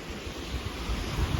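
Sea waves at night on a Palawan shore, a steady rushing wash of surf mixed with wind noise, close and fairly loud, with no voices.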